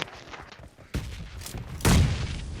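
A grenade goes off in PUBG Mobile, a heavy boom near the end following an earlier sharp blast, set among scattered game gunfire and ambient noise.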